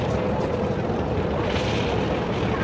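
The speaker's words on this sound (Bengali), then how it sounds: "বরিশাল লঞ্চ ঘাটের দিকে আসছে পারাবত 18 লঞ্চ" The passenger launch Parabat 18 approaches the Barisal launch ghat. A loud, steady, rumbling engine and water noise holds without a break.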